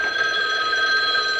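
A telephone rings at a radio station front desk, a loud, steady electronic ring held continuously and close, with no voices over it.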